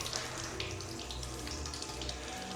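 Steady rush of tap water running inside an abandoned school in the Australian outback, a continuous broadband flow at close range with no voices.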